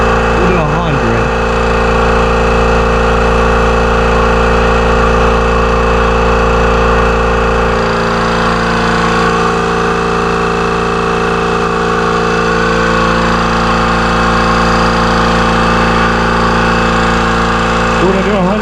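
A Kobalt Quiet Tech 29 gallon air compressor runs steadily as it builds pressure toward 150 psi, a loud continuous motor drone with even humming tones, close and unbroken, with a voice talking over it.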